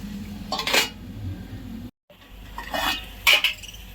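Spices with salt sautéed and stirred in a pan for masala oats: a few short metallic scrapes and clinks of a spoon against the pan, separated by quiet gaps, close and moderately loud.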